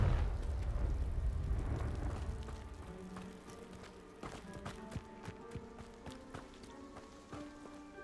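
A fiery Confringo blast spell goes off in the Hogwarts Legacy video game: a loud, close burst for the first two seconds, then it fades into scattered crackles and thuds over sustained tonal game music.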